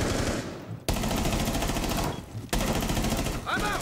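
An SMG-12 submachine gun rattling off in Rainbow Six Siege: three loud, close, rapid-fire bursts split by short gaps, with talk faintly beneath.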